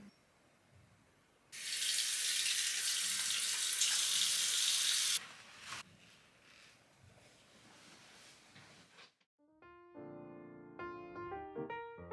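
A face being washed with La Roche face wash gel under a running tap: a loud, steady stream of water for a few seconds, then softer splashing and rinsing, before music starts up.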